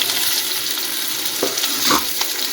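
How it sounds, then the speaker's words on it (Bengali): Onions fry in oil in a pan with a loud, steady, close-up sizzle, and a couple of brief scraping stirs near the end. No one speaks. "পেঁয়াজটাকে একটু ভেজে নেবো ভালো করে"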